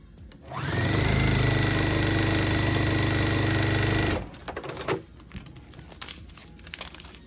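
Sewing machine runs steadily for a few seconds while stitching quilt blocks, with a loud continuous motor whir that stops abruptly, followed by softer fabric handling and clicks.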